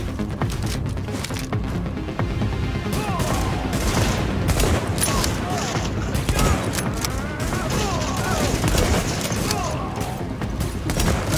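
Sniper rifle gunfire in The Division amid a chaotic firefight, with repeated cracking shots, other weapons and scattered impacts over continuous combat noise, loud and dense, with voices talking underneath.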